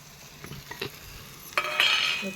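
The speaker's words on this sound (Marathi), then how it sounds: "परतू परतू घ्यायचा मसाला" Spice masala cooking in oil for a stuffed ridge gourd curry, with a few metal spoon scrapes and taps against the pan, then a louder sizzle surging close up as it is stirred.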